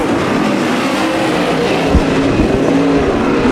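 Race cars battling for the lead in a heat race at Bakersfield Speedway, a loud, dense engine roar running throughout with surging passes and a couple of low thumps.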